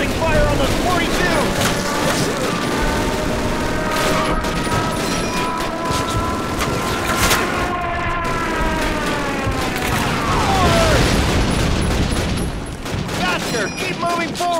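Dense MG-42 machine-gun bursts and booming explosions from a Call of Duty battle, loud and continuous, with shouted voices and a siren-like wail mixed in.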